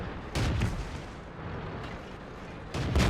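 Tank cannon fire in World of Tanks, an O-I Experimental battle: two heavy booming shots several seconds apart, loud and close, with rumbling engine and battle noise sustained in between.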